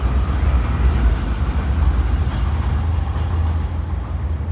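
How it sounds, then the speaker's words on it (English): Train rumbles past close by with a heavy, steady low roar and clattering, loud and continuous without letup. "Train is coming by."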